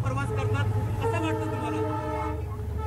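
A train runs on the newly opened 5th and 6th railway lines near Diva, a steady low rumble with tonal, horn-like layers. A voice is heard over it.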